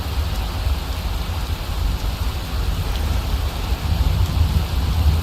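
Steady rain in Skyrim, a dense even hiss with a low rumble underneath that continues without a break and without speech.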